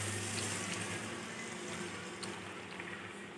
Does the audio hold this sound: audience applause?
no